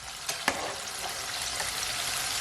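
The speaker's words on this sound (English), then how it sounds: "my chicken strips been frying for just over 10 minutes" Homemade chicken strips fry in hot oil with a steady, bright sizzle and a couple of sharp pops near the start, close and continuous.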